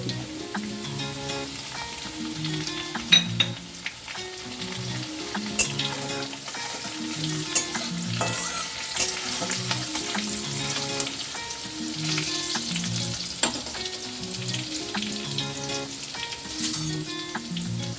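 Grated ginger and chopped chilli frying in hot oil for masala kachori, a steady close sizzle with occasional stirring scrapes and faint pops throughout.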